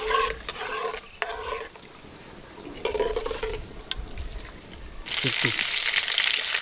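A spoon stirs cumin and garlic frying in a pan for garlic chutney. Scraping strokes come in bursts over a soft sizzle, and near the end a louder burst of frying sizzle breaks out close by.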